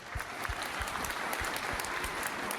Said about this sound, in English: please give both warriors a round of applause